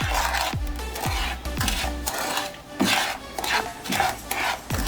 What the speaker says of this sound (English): on an empty frying pan, you put in your sugar and continue frying the sugar